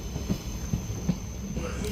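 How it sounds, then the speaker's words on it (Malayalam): Steady rumble of a train interior arriving at Edamon station, with a few soft rhythmic clunks of wheels over rail joints, no talking. "ഈ ഒരു ഇടമൺ സ്റ്റേഷനിലോട്ടാണ് ഇപ്പോൾ ട്രെയിൻ എത്തിയിരിക്കുന്നത്."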